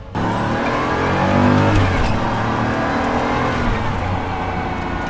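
A loud turbocharged Pagani Huayra sports car engine revs and roars up close, a throaty sustained growl rising and falling with no talking.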